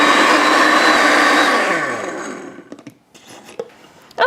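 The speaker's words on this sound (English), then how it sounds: "So put them in your mixer and turn that on high." An electric mixer runs on high whipping cream, a loud, steady broadband whir that fades after about two seconds, followed by brief clinks and bumps of the bowl.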